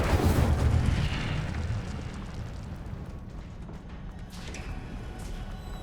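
An Incendio fire spell cast in Hogwarts Legacy erupts as a loud rumbling whoosh that swells at first and then settles into a sustained crackling roar, with no talk.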